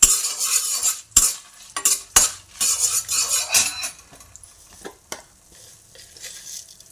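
Coriander seeds sizzling in hot oil in a pan for tamarind chutney, with spoon scrapes and stirring clatter coming in bursts during the first half, then settling into faint, sparse taps near the end.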